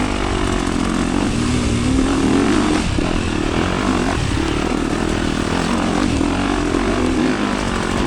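A KTM two-stroke dirt bike ridden on wooded single track at Durhamtown, its engine droning loud and steady throughout with slight surges in revs, close up and alone.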